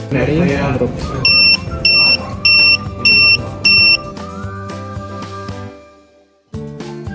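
A high electronic buzzer on an automatic keypad door beeps five times in a steady rhythm over music and background tones, which fade out near the end before picking up again.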